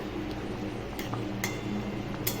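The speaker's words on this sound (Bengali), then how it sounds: "এরপর আমরা হালকা করে নেড়ে চেড়ে নেব" Curry with prawns gets a light stir in a pot, a few faint metallic clinks of utensil against the vessel over a steady low simmering hum.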